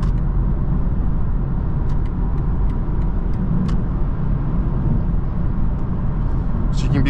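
Inside a 2024 BMW 330i xDrive in sport shift mode, a steady loud engine and road roar fills the cabin under acceleration, with faint clicks above it and no clear talk.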